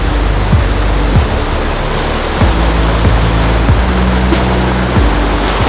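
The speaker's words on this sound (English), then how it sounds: "had to stop beside this beautiful river" A beautiful river in Colorado rushes in a loud, steady, close roar of flowing water that runs unbroken throughout.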